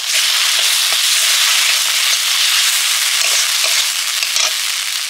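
Spices with red chilli powder, cashew and poppy seed paste fry in a pan, giving a loud, steady sizzle with faint scraping stirs running throughout.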